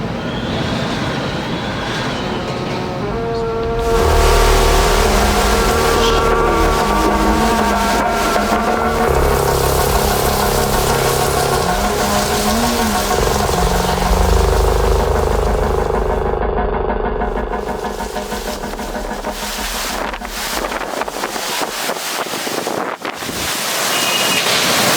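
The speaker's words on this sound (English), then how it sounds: "Do you hear that wind?" Hurricane Milton's strong wind roars and buffets the microphone in heavy, sustained gusts, loud throughout with low rumbling surges and no speech.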